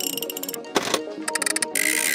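A gears sound effect from an app sound library: rapid mechanical ticking and clicking bursts in quick ratcheting runs, close and crisp, with short pauses between runs.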